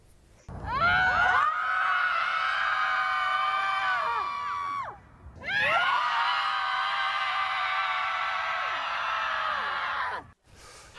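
Several women scream loudly in sustained, high-pitched bursts, one long shriek lasting about four seconds, a short break, then a second equally long scream, with crowd-like layering of voices.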